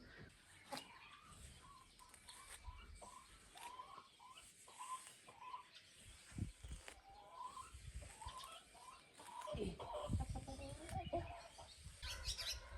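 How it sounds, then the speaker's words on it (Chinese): Chickens cluck softly and repeatedly in short, uneven bursts, with scattered rustling and small knocks nearby in a quiet setting. "哦，这小鸡长大了，小鸡"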